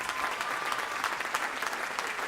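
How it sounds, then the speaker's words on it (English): An audience at a Christmas Spectacular show applauds a performer being introduced, a broad, sustained wash of clapping from a large crowd, steady and loud throughout. "how about a round of applause for Megan Chenovic?"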